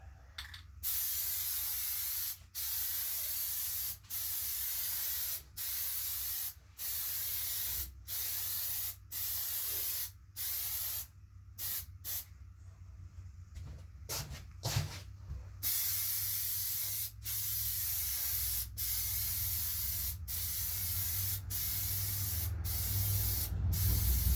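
Aerosol cans of Plasti Dip, white with a metallic top coat, sprayed onto a half motorcycle helmet: a long series of close, loud hissing bursts, each a second or two long with brief gaps, then longer continuous passes.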